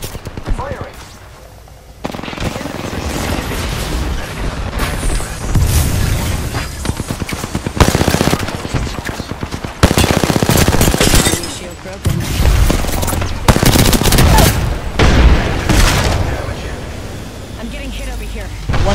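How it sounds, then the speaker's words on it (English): Gunfire in a ranked Apex Legends match: loud, dense bursts of automatic weapon fire and booming shots come in rapid clusters almost continuously, with game voice lines and a player speaking over the shooting. "I'm taking shots. Firing."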